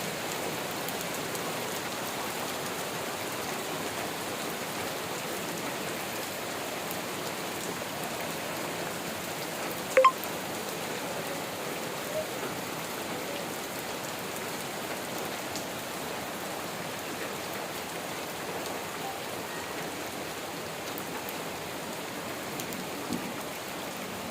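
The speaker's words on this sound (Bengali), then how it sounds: "প্রচণ্ড বৃষ্টি হইতেছে।" Heavy rain pours steadily and evenly on the surfaces around, a dense hiss that stays nearby for the whole stretch, with one sharp tap partway through and no voices.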